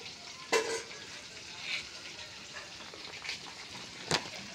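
Bhetki fish frying in a pan, a soft continuous sizzle broken by a few sharp clacks of a utensil against the pan.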